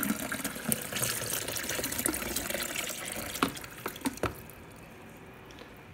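Water pours from a carafe into a coffee maker's reservoir, a steady close splashing stream that thins into scattered drips and small knocks near the end, with no voices.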